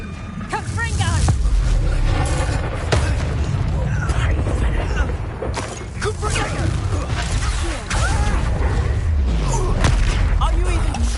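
Repeated booming blasts and crackling impacts from a Confringo explosion spell in a wizarding video game, dense and loud throughout, mixed with clanking effects and a voice talking over the action.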